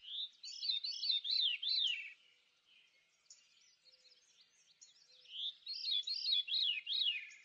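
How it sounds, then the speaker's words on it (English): A veery sings its fluting, descending spiral phrase twice, separated by a pause with faint distant calls, clear and fairly close. "The song of the veery is a haunting, two-toned descending spiral."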